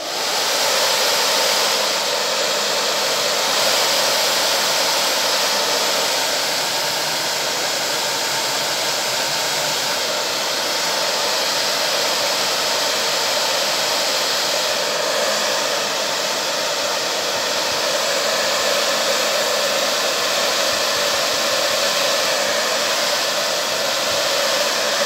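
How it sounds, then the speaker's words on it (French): A hair dryer blows continuously over an art journal page, a loud steady whooshing roar that holds nearly unchanged throughout with no speech over it. "je vais vous le faire au sèche-cheveux"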